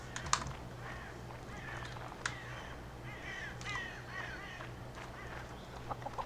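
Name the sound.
bird sounds in a video game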